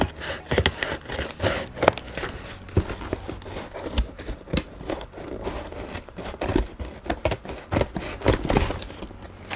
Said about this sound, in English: Scotch branded cutting scissors